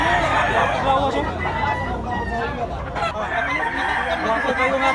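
A stag rooster crowing nearby with drawn-out calls, while people talk and chatter around it in a busy setting.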